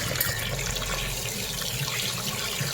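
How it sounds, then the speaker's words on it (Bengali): Hilsa fish being washed under a running tap at a kitchen sink, a steady broadband rush of flowing water and splashing that continues close and loud with no pauses throughout. "এখন মাছ কটা ধোবো, ধুয়ে কিছুটা রান্না করব"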